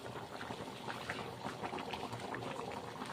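Vegetable noodle gravy boils on a high flame, with a close, continuous bubbling and popping of thick liquid at a steady moderate level.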